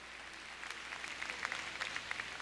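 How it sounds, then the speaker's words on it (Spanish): Applause from a church congregation during a Spanish-language sermon, a faint, steady patter of many hands clapping with scattered louder claps, fairly distant, with no talk over it. "Vamos a darle un aplauso al Señor."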